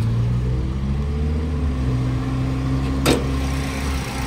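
A Toyota Vios Dual VVT-i engine idles smoothly and steadily after repair of a weak oil pump and clogged strainer, a close, even low hum with one brief sharp click near the end.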